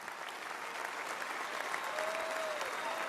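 Steady applause from a large audience at a Trump speech fills the room, a dense continuous wash of clapping heard from a distance at moderate loudness.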